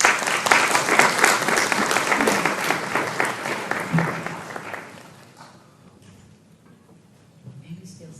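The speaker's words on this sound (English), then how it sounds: "A round of applause for Ms." Audience applause at a morning World Elder Abuse Day presentation, a dense, loud wash of clapping for about five seconds that fades out, leaving quiet room tone with a faint stir near the end.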